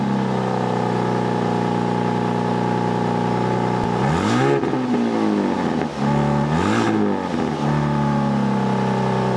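A Ram 1500 RHO's Hurricane inline-six truck engine revs hard twice over a steady, loud idle, its pitch sweeping up and falling back each time, with no talking.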